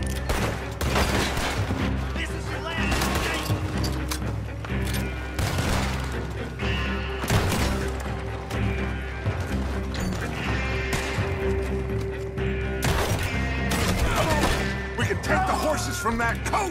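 Shootout gunfire in Red Dead Redemption, loud dense bursts of rapid shots and fusillades repeating throughout, with game music and shouted voices underneath.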